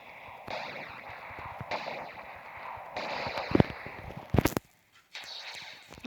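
Scattered gunshots pop amid a busy electronic soundscape in GTA, with a couple of loud, sharp blasts near the end followed by brief silence.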